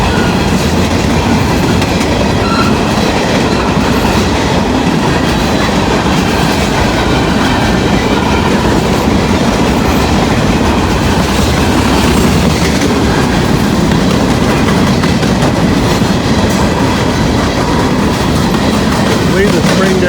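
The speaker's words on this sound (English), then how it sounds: "Gondola train." A long gondola freight train rumbles past close by, steady heavy rolling with rhythmic wheel clatter throughout.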